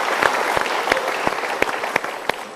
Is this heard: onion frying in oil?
no